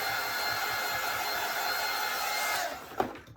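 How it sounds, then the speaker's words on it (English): A heat gun blows hot air over an acrylic stencil, giving a steady loud whooshing roar for about two and a half seconds before it cuts off into a few brief knocks. "just keep your heat gun or your heat source moving and don't get too close"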